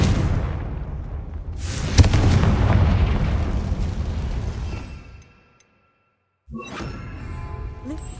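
A Confringo fire spell explosion in the Hogwarts Legacy video game: a loud, close booming blast with a rushing roar that fades into silence, then a second sharp burst with crackling.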